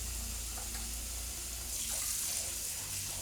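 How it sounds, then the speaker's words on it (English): Water runs steadily from a tap into a basin being filled with OxiClean for washing a peasant blouse, a constant soft rush with no voices. "Get a little bit more water in here"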